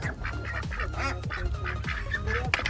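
A flock of ducks out in the countryside quacks and honks repeatedly in overlapping calls, close and fairly loud throughout.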